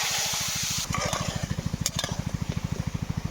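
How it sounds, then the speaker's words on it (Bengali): Potatoes fry in hot oil in a wok, a bright sizzle that is strongest at first and then thins beneath a steady, rhythmic low thrumming. "এবার আমি প্রথমেই আলুগুলো ভেজে নেব।"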